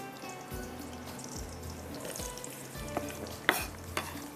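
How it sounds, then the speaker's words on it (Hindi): About 370 grams of onions fry in canola cooking oil with a soft, steady sizzle, interrupted by rhythmic scraping strokes of a stirring spoon and a few sharp clinks. "इसके अंदर 370 ग्राम की इतनी हमने प्याज फ्राई करनी है"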